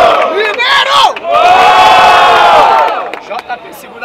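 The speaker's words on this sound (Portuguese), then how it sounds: "Barulho para as rimas de Mineiro!" A loud, close crowd at a Rio de Janeiro street rap battle roars and yells for the rapper Mineiro, with shouting voices swelling into a sustained cheer that fades after about three seconds.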